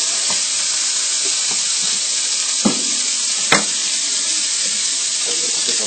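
Steady sizzle of food frying in a pan, a continuous bright hiss with a couple of brief clatters as pieces are moved; no talking.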